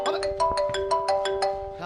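A phone ringtone plays nearby: a quick run of bright electronic chimes, repeated evenly for a couple of seconds.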